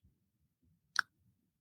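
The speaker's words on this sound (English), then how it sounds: "you got to make that clicking sound" A single sharp tongue suction click sounds close and alone against near silence, with only faint background rumble.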